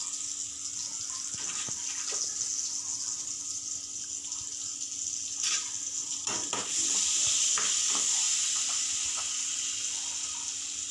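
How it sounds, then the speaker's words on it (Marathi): Onion, tomato and coconut masala sautéing in oil for egg curry, a steady soft sizzle with a few scraping stirs of a spoon in the pan. "म्हणून हा मसाला एकदम छानसा परतून घ्यायचा."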